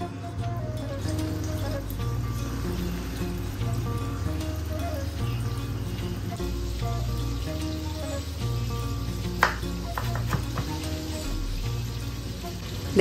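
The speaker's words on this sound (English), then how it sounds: "A low flame will get the chicken to soak too much oil" Chicken pieces fry in hot oil for broasted chicken, a continuous dense sizzle with crackling pops, close and fairly loud, with a low rhythmic hum underneath and no talking.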